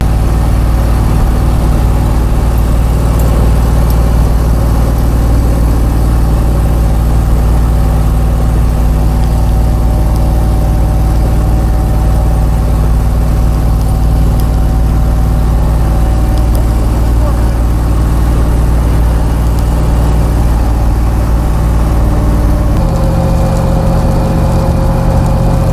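A work truck drives along with a loud, constant, low engine drone and road rumble heard from inside the cab, and the pitch shifts slightly near the end.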